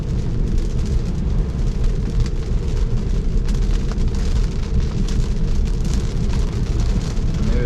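Very heavy rain drums steadily on the body of a Tesla running FSD 9 Beta, loud and dense throughout with a low road rumble beneath, no voices.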